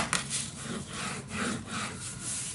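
Paper burnished down onto a craft folio, a close, soft scraping rub made of repeated back-and-forth strokes over a couple of seconds, with no voices.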